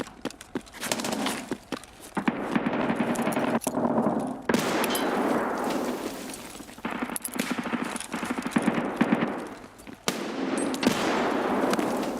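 Escape from Tarkov firefight with bursts of rapid automatic gunfire, crisp and close, recurring in clusters across the span amid movement noise.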